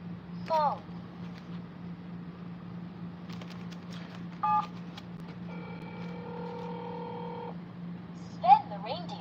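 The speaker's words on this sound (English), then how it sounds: "Phone." Toy telephone gives off electronic beeps and tones, with a steady hum underneath, a held multi-tone ring in the middle, and brief chirps at the start and end, close and moderately loud.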